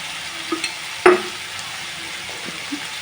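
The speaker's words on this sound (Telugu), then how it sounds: "దొడ్డుప్పు వేసుకొని ఇప్పుడు కలుపుకున్నాము." Toor dal being stirred into a sour bottle gourd curry in a pan, with soft scraping and a low sizzle and one sharper clink of spoon on pan near the middle, no voices.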